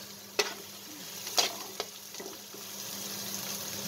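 Garlic and onions sautéing in a pan, a soft low sizzle under a few sharp scrapes and taps of a utensil stirring, close and fairly quiet with no talk.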